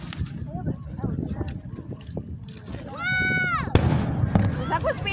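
Distant Fourth of July fireworks pop and crackle, with a whistling rocket rising before a sharp bang, while people talk and exclaim nearby over a busy outdoor hum.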